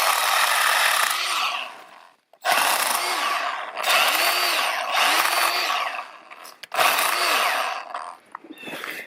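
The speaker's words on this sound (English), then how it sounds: "since this is called the pruning saw, let's see how it works on these." Milwaukee M12 Hatchet cordless pruning saw cutting through branches, its loud buzzing chain whine rising and dropping under load in four or five close bursts separated by brief pauses.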